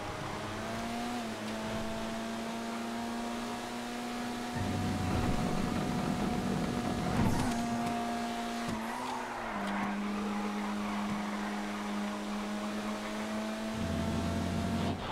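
A Vapid Retinue, a retro sports classic, racing in GTA V on FiveM: a loud, steady engine whine that shifts pitch with gear changes, with bursts of tire squeal and skidding midway, heard alone with no talking.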